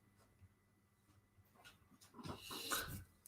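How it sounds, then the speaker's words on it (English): A pet dog pants close by, soft breaths at first that grow louder and quicker toward the end, with no talking. "there is the dog"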